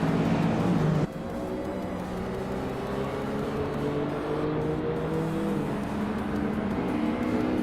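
Race cars, including a 1988 BMW M5 E34, accelerate off the start line in a racing video game, several engines droning together at close range; one pitch drops after a second while the rest keep climbing steadily.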